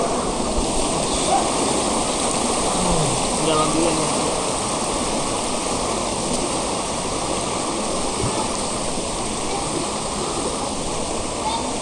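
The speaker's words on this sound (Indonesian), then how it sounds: "air terjun yang di sana, air terjun utama" Main waterfall at a hidden falls in East Sumba, a steady broadband roar of falling water filling the whole clip, with a few brief voices talking over it.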